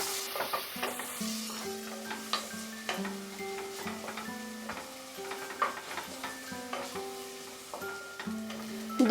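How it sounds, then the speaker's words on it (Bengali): Two medium chopped onions fry in oil in a wok over medium heat, giving a steady close sizzle with frequent clicks and scrapes of stirring throughout. "পেঁয়াজটাকে আমরা এবার ফ্রাই করব"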